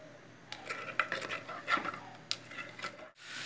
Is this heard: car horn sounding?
no